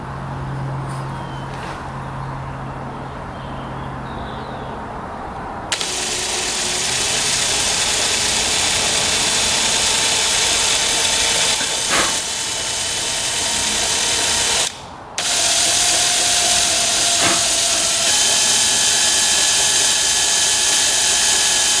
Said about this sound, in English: we're going to drill these out now. We're using a 1/16 inch drill bit.